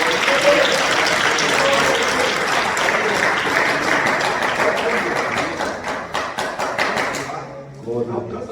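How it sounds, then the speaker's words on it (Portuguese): A church congregation at a women's congress claps together in a lively, rhythmic beat, with voices mixed in; the clapping fades out near the end as someone speaks. "As palmas bem alegres para Jesus"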